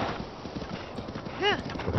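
Horse hooves clip-clopping at a gallop in Zelda: Breath of the Wild, a steady rapid hoofbeat rhythm with a brief whinny near the end, under someone talking.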